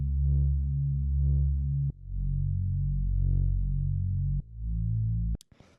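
A simple chill bass synth plays the root notes of the chords in long, deep, sustained tones, with a short gap between each note and a faint click at the end.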